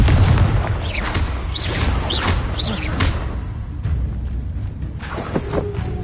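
Confringo blasting spell in a Harry Potter video game, a series of booming explosive bursts with whooshing sweeps, loud and close, a few more dull blasts trailing off toward the end.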